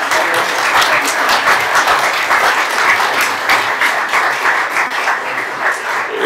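A hall full of people at a county council session award ceremony breaks into sustained applause, a dense, even wash of clapping from many hands that carries on steadily throughout.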